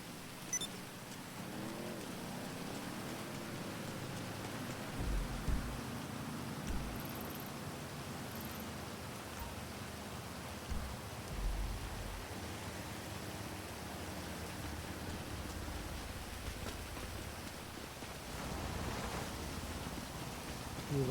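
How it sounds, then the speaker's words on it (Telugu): Steady rain hisses without a break in the video game GTA V, a broad even wash of noise that stays moderately loud for the whole stretch with no voices. "ఈ వర్షం అయితే అసలు తగ్గేటట్టు లేదు."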